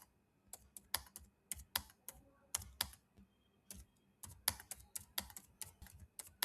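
Keys on a computer keyboard clack in short irregular bursts while numbers are entered into an Excel spreadsheet, crisp and close in a quiet room, with brief pauses between groups of strokes and no voice.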